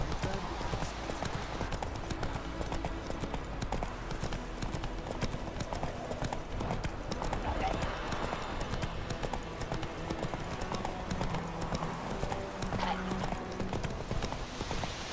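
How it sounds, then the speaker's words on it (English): A horse's hooves clip-clop steadily in The Witcher 3 video game, a continuous trotting patter mixed with ambient game sounds and a faint voice. "Whoa there, Roach!"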